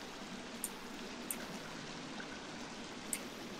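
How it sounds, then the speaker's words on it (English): A small waterfall in the video game The Forest gives a constant hiss of falling, splashing water, steady and fairly faint, with a few brief sharp ticks over the rush. "This waterfall's so small, yet it sounds like Niagara Falls."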